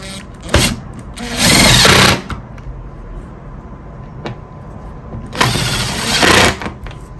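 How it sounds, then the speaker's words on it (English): A power drill tightens bolts while a RAV4 camping storage system is assembled, with two loud whirring bursts separated by quieter handling clatter and a few knocks, close up and with no talk. "But we'll tighten these bolts together, and that should finish this section."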